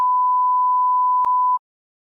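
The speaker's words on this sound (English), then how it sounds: "Now, we've opted to hit the beep here, not because Jim swore." A loud, steady censor beep tone runs for about a second and a half, with a brief dropout partway through, then cuts off into silence.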